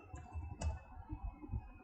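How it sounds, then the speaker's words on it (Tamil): Fingers tap on a computer keyboard at a desk during a programming setup, producing a few quiet, closely spaced clicks and key presses in an otherwise quiet room. "டைப் பண்ணுங்க. என்ன டைப் பண்ணணும்?"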